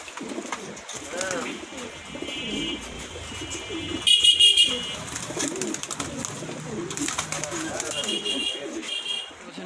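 Pigeons cooing and fluttering in a loft of racing pigeons, a steady mix of soft coos and occasional wing flaps with some background noise and a brief louder burst midway.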